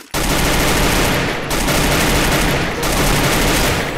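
Gunfire fills a Free Fire video game match during headshots, a dense, continuous burst of loud rapid shots close up that barely lets up, with two brief dips in the barrage.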